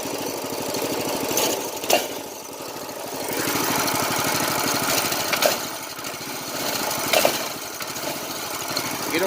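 A 2021 Coleman CT200U mini bike engine runs with a rough, chugging putter that rises and falls as the throttle changes, with a few loud knocks along the way.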